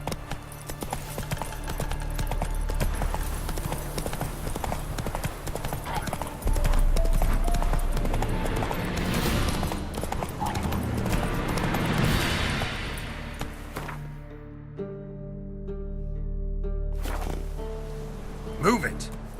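Galloping horse hoofbeats from The Witcher 3 video game pound in a fast, continuous clip-clop rhythm, loud and close, with a brief whinny and a voice speaking over the game sound before the gallop eases near the end.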